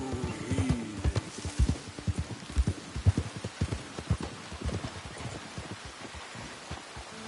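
Hooves of a horse in Red Dead Redemption 2 clop along at an unhurried walking pace, a steady series of close, distinct thuds with a horse snorting briefly near the start.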